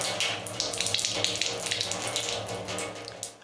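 Water running from a tap at low pressure in a home, a steady close splashing stream with faint ticking over it.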